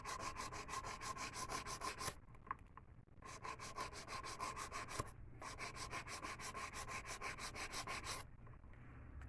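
Acrylic stiletto nails being shaped with a nail file, a steady close rhythmic rasping of quick back-and-forth strokes that pauses briefly twice, with no talking.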